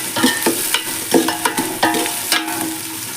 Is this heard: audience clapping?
no